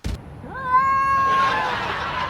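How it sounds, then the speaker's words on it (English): A single drawn-out cat meow, rising then holding a bright tone for over a second before fading into a breathy tail, close and fairly loud. "A tom cat."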